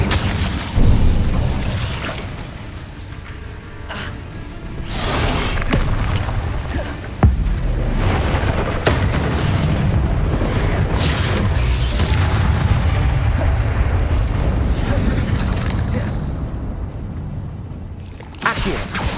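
Incendio fire spells blast repeatedly in the Hogwarts Legacy video game: loud booming bursts and crackling impacts roll over a constant roaring battle din, with brief quieter gaps between strikes.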